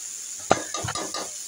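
Gourd skin, potato, onion and green chili fry with salt in a pan under a steady hiss, while a spoon stirs and scrapes the pan in several quick, clattering strokes.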